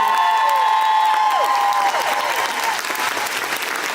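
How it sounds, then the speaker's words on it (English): A convention crowd in Paris applauds and cheers for the event staff, a dense, steady wash of clapping across the whole stretch with whistling tones early on and scattered shouts mixed in. "can we get a nice round of applause for everyone that helped put this on, all the staff, everybody"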